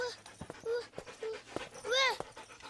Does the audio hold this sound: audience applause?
no